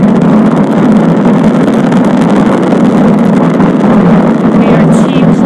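SpaceX Falcon 9 rocket launching the Crew-2 Dragon, its nine Merlin first-stage engines giving a loud, continuous broadband roar with wind-like rumble throughout, steady and unbroken.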